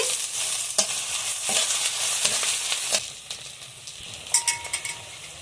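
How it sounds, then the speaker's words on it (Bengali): Whole cardamom, cloves, cinnamon and chopped onion fry in hot oil in a pan, giving a steady close sizzle with scraping stirs and a few light utensil clinks, no talking. "এখন আমি এলাচ লবঙ্গ ডালচিনি দিয়ে দিচ্ছি পেঁয়াজ কুচি দিয়ে দিচ্ছি"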